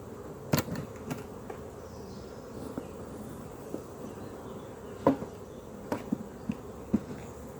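Honeybees hum in a soft, steady drone around a hive in a French apiary, with a few sharp clicks and light taps nearby; no talking.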